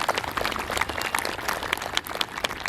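An indoor audience claps steadily at a yoga day gathering in memory of late founders, a dense continuous patter of many hands without pause, no speech over it.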